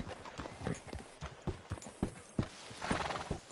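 Horse hooves clip-clop in a steady rhythm alongside a whinny in a video game, close and clear, with no talk over them.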